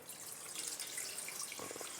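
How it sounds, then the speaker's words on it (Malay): Water pours steadily into a steamer pot for cooking kuih kaswi, a faint continuous trickle with a slightly splashier gurgle near the end, heard alone. "Masukkan air."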